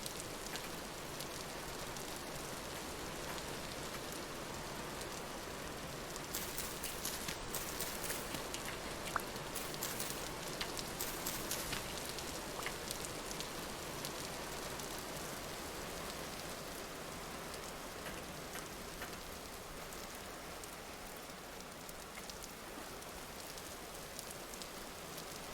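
Steady rain falls in the Vintage Story video game among mountain peaks, a faint continuous hiss and patter that holds evenly for the whole stretch with no voices.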